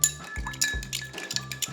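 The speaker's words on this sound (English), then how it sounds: "We're gonna stir that up, and I'm gonna just use my bar spoon to do that." Metal bar spoon stirring a Negroni in a glass, a quick series of bright clinks and taps against the glass, close and clear, with no talking.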